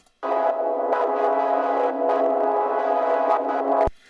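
A sustained Massive synth pad chord holds steady for several seconds, warm and full, with slight swells before cutting off abruptly.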